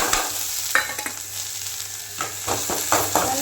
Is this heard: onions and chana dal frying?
yes